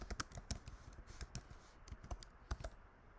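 Fast, steady typing on a computer keyboard while entering a git clone command, a quiet, close run of crisp key clicks in irregular rhythm with no talk.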